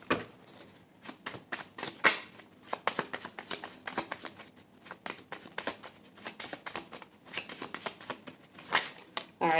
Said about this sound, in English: So I'm going to pull 3 of these cards here.